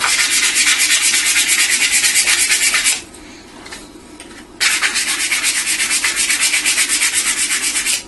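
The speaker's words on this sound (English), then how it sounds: "just use the sandpaper to sort of round them like that" Coarse sandpaper rubs rhythmically along the edge of a wooden sledge, a loud, close rasping stroke pattern that pauses briefly before resuming at the same brisk pace.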